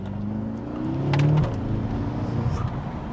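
A BMW M6 car engine accelerates from inside the cabin, a rising low engine note swelling briefly and then settling into a steady drone.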